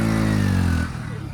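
A motorcycle engine revs close by with a steady, strong drone, then drops off toward idle near the end of the short burst, with no one speaking over it.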